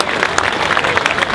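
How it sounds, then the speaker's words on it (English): An audience claps for someone introduced at a gathering, a brief burst of many hands with a few sharper individual claps standing out up close. "a round of applause for my friend Karen Testament"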